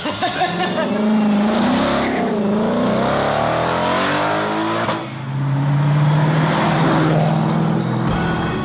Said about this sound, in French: Ce que t'entends, c'est les 725 chevaux.